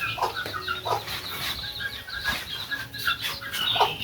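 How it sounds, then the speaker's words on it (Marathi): Chickens cluck and squawk close by at a village home in Konkan, with repeated sharp calls and a burst of wing flapping over a busy, continuous background. "कोंबड्या कोंबड्या आल्या."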